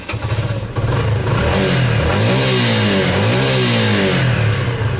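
A Honda CB250 motorcycle engine idles roughly, then revs up and down in repeated throttle blips, the pitch rising and falling clearly and loudly close by with no talk.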